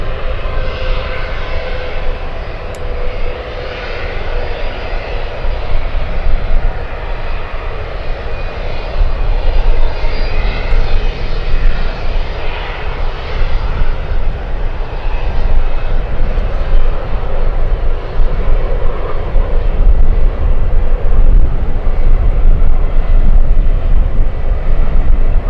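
A United airliner bound for Seattle takes off at San Francisco airport, its engines a loud, steady, continuous roar with a deep rumble held throughout, no voices.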